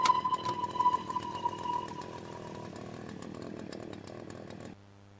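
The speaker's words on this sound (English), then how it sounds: "Never mind, we're going lollipop chainsaw." Chainsaw from the video game Berry Bury Berry: a loud, rasping motor drone with a sharp whine at the start, settling into a steady buzzing rev before cutting off abruptly, leaving a faint hum.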